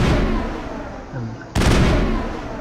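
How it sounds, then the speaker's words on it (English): A weapon fires with a sudden loud blast in the video game Mass Effect, following a quieter stretch of low rumble, then booming reverberation that trails off. "you fire your weapon and you build up some overheat"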